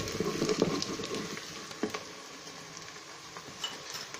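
Salted onions stirred in a cooking pot while a stewed chicken curry base is made: a soft crackling sizzle with a few scraping strokes of the spoon, louder at first and then settling, no talking.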